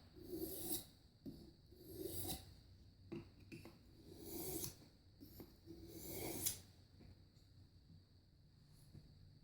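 A knife blade being worked over a fine sharpening stone, a series of repeated rasping strokes in a steady rhythm, close and fairly quiet, with no talk.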